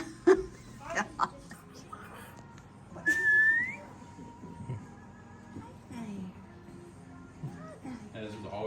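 An African grey parrot gives a few short whistles, one sharp rising whistle standing out, amid quiet chatter and laughter from people nearby.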